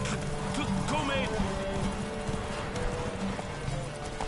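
Roach the horse galloping in The Witcher 3, a quick steady clip-clop of hooves running through the scene, with a voice talking over the hoofbeats.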